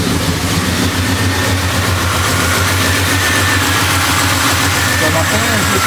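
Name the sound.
1973 Impala 406 small-block Chevy engine idling after startup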